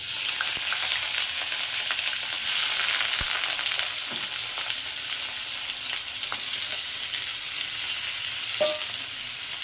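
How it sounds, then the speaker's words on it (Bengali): Eggplant pieces fry in hot mustard oil with a continuous bright sizzle. A few sharp clicks of utensils stirring in the pan break through now and then. "এবার বেগুনগুলোকে দিয়ে দেবো তেলের মধ্যে"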